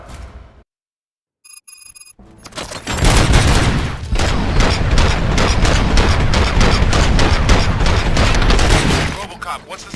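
Rapid bursts of gunfire in RoboCop: Rogue City rattle loudly and almost continuously after a brief pause and a few electronic beeps, with talk mixed underneath.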